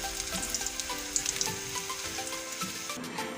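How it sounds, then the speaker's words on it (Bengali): Lentil fritters deep-frying in oil crackle and sizzle continuously at close range, with light stirring clinks and no speech over it. "বড়াগুলোকে এইভাবে আমি লাল লাল করে ভেজে নেব।"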